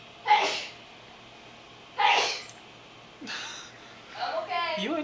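A small sneeze lands early, followed by a second sneeze about two seconds later, both fairly close and sharp, and then a soft voice and breathy sounds trail after them.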